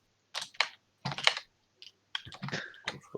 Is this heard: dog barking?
no